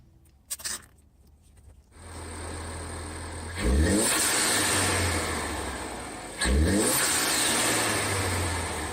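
A Ford Focus ST engine fitted with a sport air filter and cold air intake idles, then revs sharply twice, each rev rising in a loud climbing roar before settling back to a steady drone.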